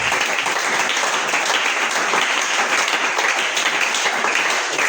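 A church congregation applauding, loud and steady, many hands clapping together in a dense, even wash with no pauses.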